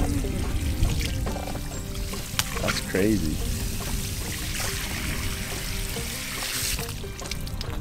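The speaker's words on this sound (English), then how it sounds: "Saltwater well, huh?" Water pours steadily and continuously from a saltwater well in a swamp, a loud, close gush throughout, while people talk briefly over it.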